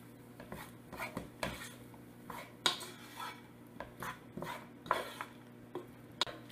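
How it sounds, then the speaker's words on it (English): Drained macaroni being stirred with sautéed onion and garlic, giving a string of soft, scattered scrapes and clinks of a utensil against the pot, fairly quiet and irregular with no talk. "to this right now we're going to add our sauteed onion and garlic. Just give this a stir."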